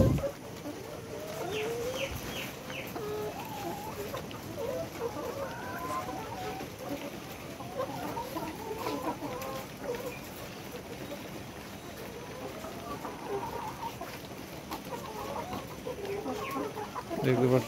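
Layer hens on a poultry farm cluck and call throughout, a busy flock chorus at moderate distance over a low steady background hum.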